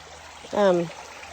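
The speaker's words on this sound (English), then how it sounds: "I just find this water and this rocks just like so comforting" A rocky stream trickles and rushes steadily as a soft, continuous wash of water, and a short voice sound rises briefly over it partway through.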